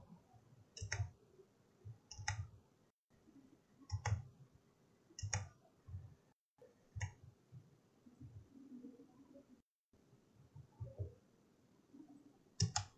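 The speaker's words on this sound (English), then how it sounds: "Right mouse click to finish." Computer mouse clicks while drawing in Rhino 7 3D modelling software, sharp isolated clicks in small pairs and bursts spread across the span, close and fairly quiet, with soft low room noise between them and no talking.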